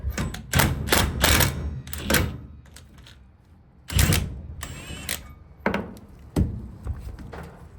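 A 19 mm socket wrench works lug nuts loose on the rear wheel of an electric trike, giving loud, sharp ratcheting bursts and metallic clacks in uneven clusters, up close, with quieter pauses between the efforts.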